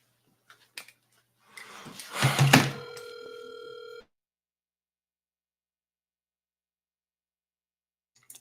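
A telephone rings once in a short electronic burst with a sustained bright tonal ring that cuts off abruptly, followed by silence; no talk over it.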